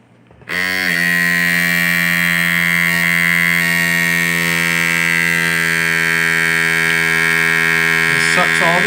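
A small kitchen vacuum sealer pump switches on abruptly and drones steadily at a loud, even pitch, drawing air out of a bag holding chicken of the woods mushrooms, with no talking.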